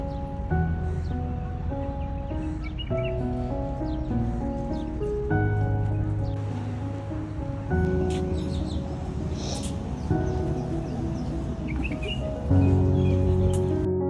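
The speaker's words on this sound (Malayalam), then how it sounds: "ഇതിപ്പോൾ നമ്മുടെ നാട്ടിലത്തെ മൈനകൾ തന്നെയാണ്" Common myna birds calling outdoors in the Al Quoz area of Dubai, a continuous mix of varied chirps, whistles and chattering notes at moderate distance, no talking.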